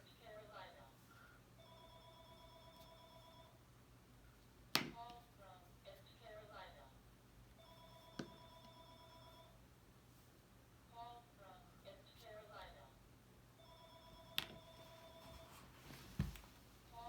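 An office telephone rings in repeated electronic trills with pauses between them, moderately loud, alongside occasional soft clicks and handling sounds.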